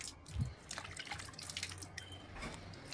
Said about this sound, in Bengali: মুখটা ভালো করে ধুয়ে নিলাম।